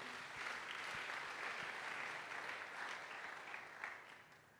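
A church congregation applauds during a French-language sermon, a steady, even wash of clapping that sounds fairly distant and soft and holds for several seconds without any voice.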